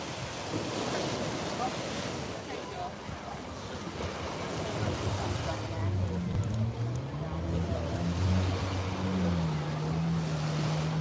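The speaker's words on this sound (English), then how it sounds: "There goes the sea rescue in case anybody gets in trouble." A sea rescue boat runs out on the ocean off Lahaina, its low engine drone rising and shifting in pitch as it passes at a distance over steady surf and wind noise.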